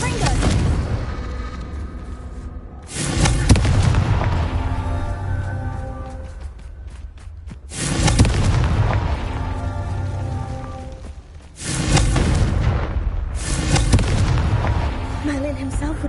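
In the Hogwarts Legacy video game, Confringo fire spells detonate in three heavy booming blasts a few seconds apart, each one loud and sudden and trailing into a long rumbling decay.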